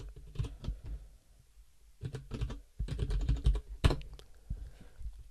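Keyboard typing on a computer running Kali Linux, with bursts of close, quiet key clicks separated by short pauses and no talk.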